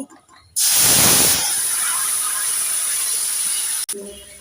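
Shukto vegetables are tipped into hot mustard oil with panch phoron, setting off a sudden loud, close sizzle that roars at first, then settles into a steady hiss for several seconds before cutting off abruptly.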